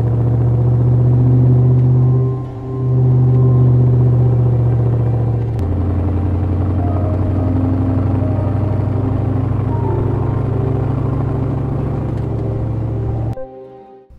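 Chevrolet LS3 6.2-litre V8 fitted in a restored Defender 110 truck rumbling at a steady idle, loud and close, with a brief dip in level partway through before the note drops and cuts off near the end.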